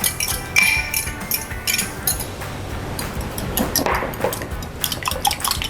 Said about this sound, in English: Whisk them together.